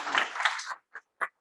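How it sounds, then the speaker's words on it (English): Audience applause for a panelist at an on-site community meetup panel discussion, a short burst of dense clapping that stops after under a second, followed by a few scattered single claps. "I want a round of applause for an amazing panelist"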